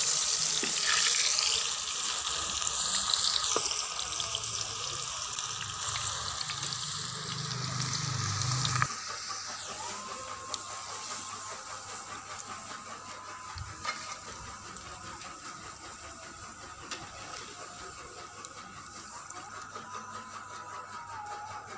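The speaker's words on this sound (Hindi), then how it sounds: "अब हम इसमें कटे हुए आलू डालेंगे।" Cut potatoes frying in hot oil for chips, a steady broadband sizzle that jumps louder and busier for a few seconds, then settles into a continuous crackling hiss, close and unbroken with no talking.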